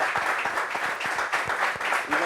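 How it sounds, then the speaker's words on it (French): Studio audience applauding a guest from a sexual violence NGO arriving on a television set, a steady dense clapping wash throughout, moderately loud with no clear voices. "Applaudissements pour Hassan Moroni de l'ONG SOS Violence Sexuelle."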